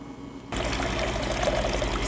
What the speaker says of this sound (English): we're getting some water out of our water container here in the fridge